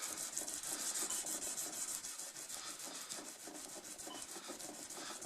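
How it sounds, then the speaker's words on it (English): Rhythmic rubbing strokes of sandpaper by hand on both sides of a wooden piece at once, repeated back and forth at a steady pace, close and moderately loud, with no speech. "I'm sanding both sides at the same time"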